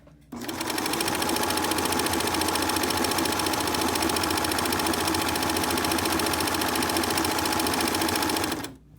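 A sewing machine stitches a fabric mask in one continuous run of about eight seconds, its fast, even mechanical whir loud and close, starting and stopping abruptly with no pauses between.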